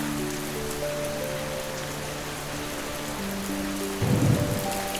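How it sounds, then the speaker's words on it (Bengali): Rain patters steadily on a tin roof in a village during the monsoon, a soft continuous hiss with a low hum underneath and a brief heavier rumble near the end. "টিনের চালের ওপর পড়ছে টুপটাপ বৃষ্টি।"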